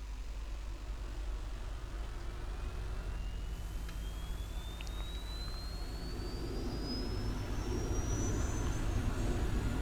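Jet taking off from a Nimitz aircraft carrier deck in Arma 3, a continuous loud engine roar with a rising whine that climbs steadily in pitch as thrust builds, alone without voices.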